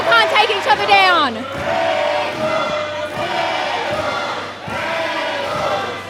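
Wrestling crowd at an independent pro wrestling show roaring and cheering steadily through a title match, loud and continuous beneath a commentator talking.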